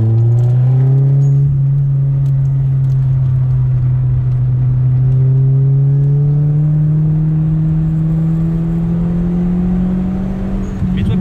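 A Peugeot 406 engine revs steadily as the throttle reopens, a loud, close, sustained drone with a slowly rising pitch, carrying on without a break.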